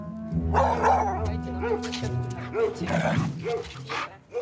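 A guard dog at a home on the outskirts of Moscow barks repeatedly in loud, close yelps and woofs, mixed with people talking nearby.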